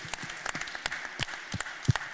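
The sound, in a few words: audience applause for first-time Ironman racers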